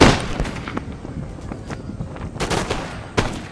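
Musket volley gunfire in the video game Empire: Total War, a battle scene with bursts of crackling shots spread across the clip, the loudest volleys late on, over a steady din of battle and no talk.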